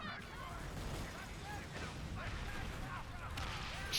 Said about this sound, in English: So as you can see, when I'm doing a broadside here,